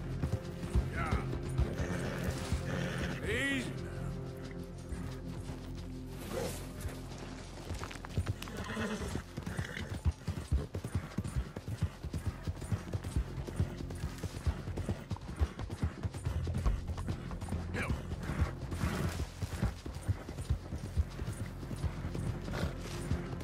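Horse hooves clatter in Red Dead Redemption II, with whinnies mixed in over steady game music and ambience; the hoofbeats run continuously through the scene at moderate loudness.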